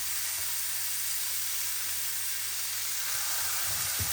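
Three lean beef burgers sizzle in a hot pan, giving a steady, loud hiss throughout with a slight bump near the end and no talking.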